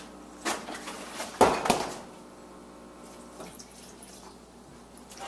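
Skim milk poured into a Shakeology shake in a blender cup, a short liquid splash and trickle, fairly close and quiet, with a few faint clinks around it.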